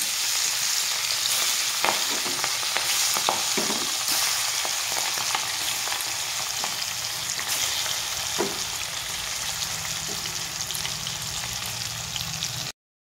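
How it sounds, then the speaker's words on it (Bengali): Hilsa fish pieces fry in hot oil with black cumin in a kadai, giving a steady, loud, continuous sizzle with occasional sharper spits and crackles, and no talking. "আর দিয়েছি কড়াইতে, তেলটা গরম হয়ে গেছে। তো কালো জিরে দিয়ে দিব আমি একে একে করে মাছ।"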